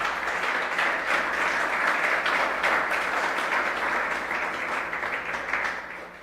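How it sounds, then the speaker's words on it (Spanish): A church congregation applauds together, a dense sustained burst of clapping that stays loud and steady for several seconds before easing slightly at the end, with no talking over it. "Den un aplauso al Señor."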